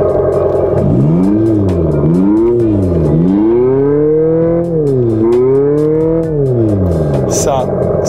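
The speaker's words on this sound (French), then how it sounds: "voici le son d'une Abarth électrique" A synthetic engine-like tone rises and falls in pitch as an electric Abarth car pulls away, loud and close, with gear-shift-like sweeps.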